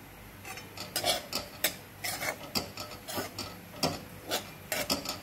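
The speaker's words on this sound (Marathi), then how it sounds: "आता अशाच प्रकारे आपल्याला ते भाजून घ्यायचं आहे" Grated coconut dry-roasting in a pan for Solapuri black masala, heard as a steady run of scraping, stirring strokes of a spatula against the metal, close and moderately loud, with no talk.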